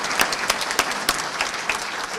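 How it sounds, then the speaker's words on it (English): Applause from a small group nearby at a senior center grand opening, steady clapping with a few sharper individual claps standing out, no talking. "So how about a round of applause for all those people that did such a great job getting this done."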